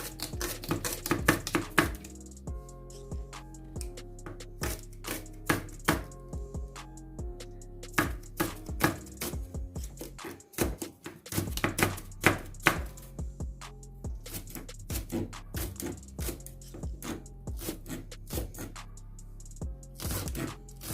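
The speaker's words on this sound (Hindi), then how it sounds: "इसी तरह से हम लोग सारा प्याज काट लेंगे" Rapid, steady knife chops through onions on a cutting board, crisp repeated taps continuing throughout with brief pauses.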